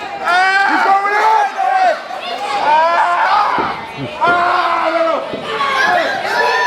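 A rowdy crowd at a live wrestling event chants and shouts in rhythmic bursts, loud and close, with cheering voices rising and falling throughout.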